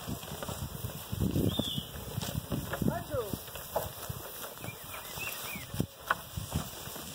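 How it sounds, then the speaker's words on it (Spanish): Mules being readied to carry loads of timber down a mountain in Abejorral, Antioquia, Colombia, with scattered hoof clops on the ground under outdoor ambience and a few faint bird calls. "Aquí se preparan las mulas para descender, para llevar la respectiva carga"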